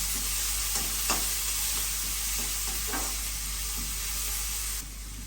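Vada batter made from semolina sizzles steadily in a hot pan while a utensil scrapes and stirs a few times, close by and fairly quiet, ending in a softer hiss.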